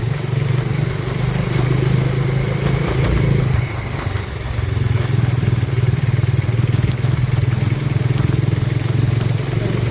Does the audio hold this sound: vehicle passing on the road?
yes